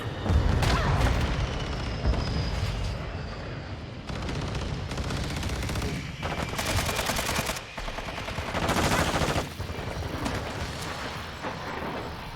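Modern Warfare 2 gameplay brings sustained heavy gunfire, with rapid automatic bursts and repeated heavy booms mixed in. The firing is loud and continuous, with a few brief gaps, and no clear talking.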